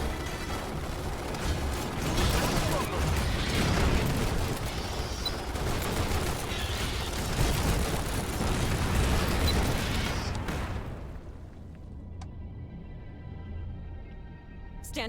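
Sustained gunfire with grenade blasts from the Starship Troopers: Terran Command real-time strategy game, a dense continuous fusillade of shots and bursts for about ten seconds before dropping to a quieter ambient hum with a few faint clicks.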